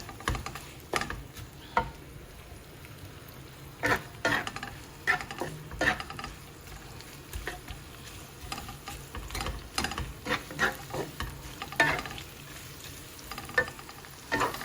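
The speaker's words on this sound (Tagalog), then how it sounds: "Then, i-add na natin yung onion. Haluin lang natin ng bahagya. Hayaan natin maluto yung onion." Onion and garlic being sautéed in a pan for pork kare-kare, with soft sizzling under repeated scraping and clacking strokes of a utensil stirring the pan at an irregular pace.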